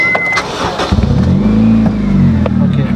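A modified Honda Civic starts up close by, then its aftermarket exhaust barks through a few loud revs that rise and fall over a steady idle rumble.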